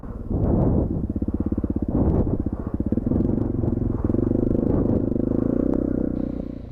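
Honda CRF250L motorcycle crossing a slippery, shallow ford, a close rumbling engine with a throbbing idle and low revs, plus splashing clatter, steady for several seconds.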